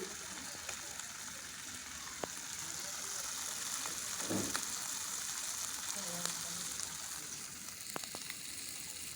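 Sea fish frying in a kadai, probably over an outdoor wood fire, a steady faint hissing sizzle with a few isolated clicks and a brief louder crackle midway, low and constant.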